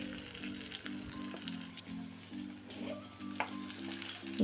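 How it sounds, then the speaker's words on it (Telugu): Hot tempering is mixed into lemon rice, giving a soft, steady sizzle and crackle with light stirring and a low, pulsing hum underneath, faint and close. "ఇప్పుడు ఈ పోపుని మనం రైస్లో వేసి కలుపుకుందాం."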